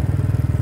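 An older-model Royal Enfield Classic 350 single-cylinder motorcycle being ridden on a road in Himachal, giving a loud, close, steady thumping exhaust beat with an even, rapid pulse throughout.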